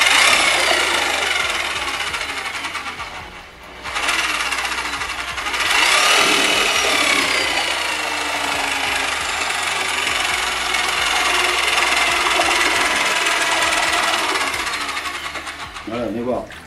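Electric paddle mixer with a speed controller, used on a construction site, whirring steadily at its lowest setting in a bucket, a loud continuous motor drone with a brief dip near the start and no speech.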